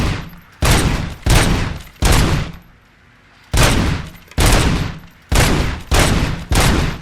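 Heavy bursts of automatic gunfire from RoboCop: Rogue City, seven loud, sustained volleys of roughly half a second each, firing in a steady on-off rhythm with one longer pause midway.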